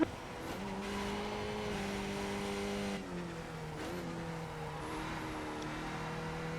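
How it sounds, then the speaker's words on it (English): A Skip Barber Formula 2000 race car at speed on the Nürburgring, its engine holding a steady high drone with slight pitch shifts and a brief dip midway, heard from onboard and loud, with no talk. "the car is going to first slide, then it's going to bottom out, and then it's going to float"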